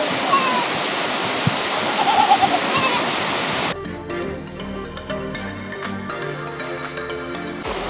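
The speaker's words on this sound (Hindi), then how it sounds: "148 मीटर से ये झरना जो है ऊपर से गिरता है" The 148-metre Birthi waterfall roaring as a dense, loud wash of falling water for several seconds, then cutting to a quieter scene with softer rushing and scattered noises.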